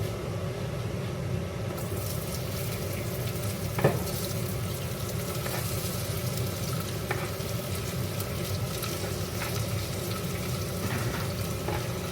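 Onions sautéing in hot oil with biryani spices for home-style mutton biryani cooked in an Instant Pot, a steady close sizzle and crackle with a few sharp stirring clinks against the pot.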